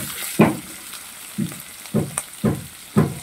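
Peeled prawns fry in a pan with a constant hiss, punctuated by regular spatula strokes roughly every half second, close and fairly loud, with no one speaking.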